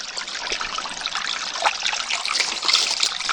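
Water trickles and drips steadily inside a well, a continuous close, hissing dribble that swells slightly toward the end, with no voices.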